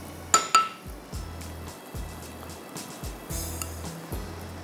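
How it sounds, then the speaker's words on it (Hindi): A whisk stirs pudding mix into milk in a metal pot, rhythmic clinks and scrapes against the pot at a steady pace, a couple of sharper knocks near the start, all close and without talk. "अब इसमें दूध में मैंने डाल रही हूँ ये 2 पैकेट पुडिंग मिक्स, और जल्दी जल्दी से उसको विस्क से हिला लीजिए।"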